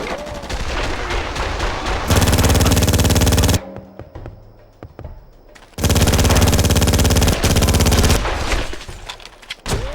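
A loud gunfire shootout in the PS2 video game Made Man, with long sustained bursts of automatic fire, a brief quieter lull in the middle, then the heavy shooting resumes close and intense.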